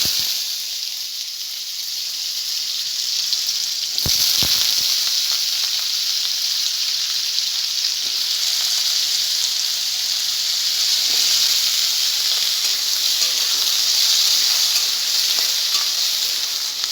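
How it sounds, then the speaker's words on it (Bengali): Potatoes fry in hot mustard oil in a wok, giving a steady, loud, close sizzle and hiss that runs throughout, with a few brief stirring clatters near the start. "তেল গরম হয়ে গেছে, এবার আলুগুলোকে আমি ভালো করে ভেজে নেব।"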